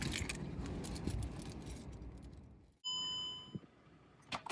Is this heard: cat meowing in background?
no